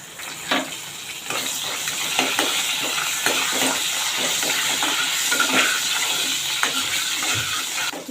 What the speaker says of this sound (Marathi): आता ही आमटीला फोडणी मी लसूणवर देते